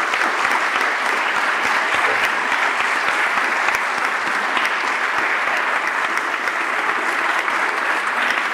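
Sustained audience applause after a talk by two filmmakers at a university arts faculty, dense and even clapping throughout with no break.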